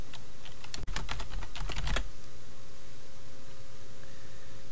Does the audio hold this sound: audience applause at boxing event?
no